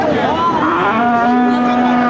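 At a cattle market, a Friesian cow lets out one sustained, close moo that rises and wavers briefly, then settles into a steady, loud drone.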